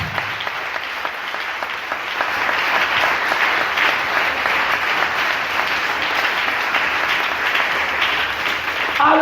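A church congregation applauds during a worship service; the clapping starts moderate, swells after a couple of seconds and then holds as loud, sustained, close applause.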